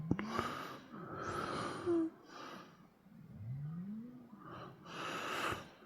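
Several slow, rasping snores from a person rise and fall in a quiet winter camp, each a long rough breath with pauses between, fairly close and moderately loud.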